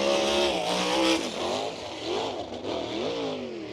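A USAC sprint car laps the dirt oval at Bloomington Speedway, its engine roaring loud and close as the pitch rises and dips with throttle through the turns. No voices are heard.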